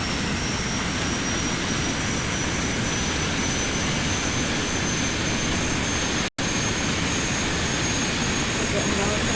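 A jet engine on an airplane that cannot take off in BeamNG.drive roars in a steady, loud, broadband rush, briefly cutting out once before resuming.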